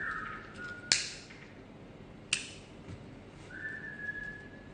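A clear whistled note opens, two sharp clicks follow, then a longer steady whistle rises near the end, with no talking.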